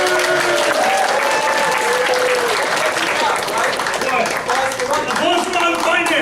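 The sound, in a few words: audience applause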